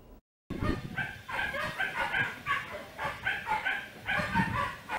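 A small male Jack Russell Pinscher mix dog weighing about 6 kg barks and yips nearby in a fairly continuous, uneven stream after a brief moment of silence.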